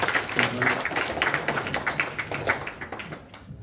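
Ladies at a presentation evening in a Derby Hindu temple hall clap in a steady patter of applause that lasts a few seconds, then fades out. Speech is faintly mixed in.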